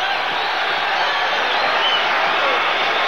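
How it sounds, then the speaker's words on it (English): A boxing arena crowd on its feet cheers during a title fight between Tommy Hearns and Benitez, a loud, dense and unbroken roar filling the space from start to finish. "Crowd is on its feet here, exhorting what they expect will be the new champion"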